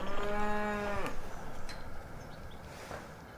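Calf bellowing during veterinary treatment on a farm, one long drawn-out moo that ends abruptly, followed by quieter handling noises and faint background sounds.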